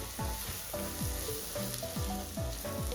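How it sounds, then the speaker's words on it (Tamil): Chili powder sautés in hot oil for a crab curry, giving a loud, steady sizzle with rhythmic stirring scrapes repeating roughly every half second, close up and without speech. "இப்போ மிளகாய்த்தூள் போட்டு நான் கொஞ்சம் நேரம் வதங்க விட்டேன்."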